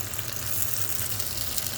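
Tater tots with rosemary and parsley frying in a pan, a steady close sizzle and crackle running continuously under a low hum from a kitchen vent.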